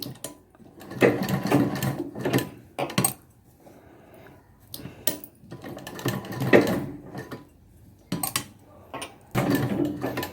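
A sewing machine stitches invisible piping onto a curved neckline in short repeated bursts of rapid, close mechanical clatter, separated by quiet pauses as the fabric is turned.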